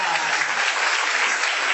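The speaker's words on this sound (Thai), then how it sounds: "ขอเสียงปรบมือต้อนรับพี่ชอสายที่มนตรีกุลนิยาครับ" Steady audience applause greets a guest at a Thai press conference for a Green Concert, a dense even clatter of many hands filling the whole short stretch without pause.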